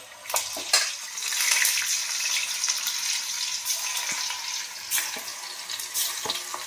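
Food frying in hot oil in a home kitchen, a continuous close sizzling hiss scattered with sharp crackles and pops.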